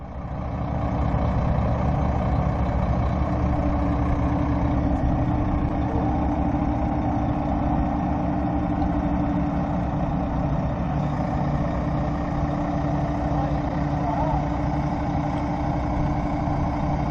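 A landing craft's engine idles steadily with a deep, constant low rumble that holds at an even level throughout, with no talking.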